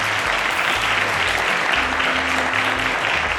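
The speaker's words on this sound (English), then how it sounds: "A round of applause to Glory, ladies and gentlemen." A studio audience on the Cowbellpedia quiz show claps steadily and loudly for a few seconds, the applause filling the room while a soft musical tone runs low underneath.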